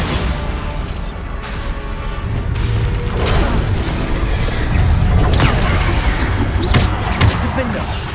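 Spell blasts from a Bombarda cast in Hogwarts Legacy go off in a dense battle din, with repeated booming impacts over constant rumbling noise and a voice calling out spells.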